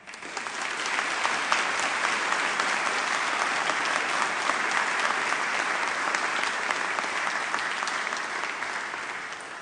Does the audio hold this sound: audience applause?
yes